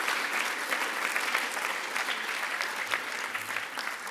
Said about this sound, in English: give a round of applause for the Palestine Expo, the volunteers in particular that have made this a reality